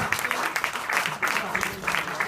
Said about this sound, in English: Let's give Jim, right, a huge round of applause as he joins us on stage